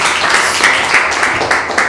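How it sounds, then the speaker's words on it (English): A classroom audience claps together, a steady broadband patter of many hands at close range filling the whole stretch with no gaps. "Please clap for her."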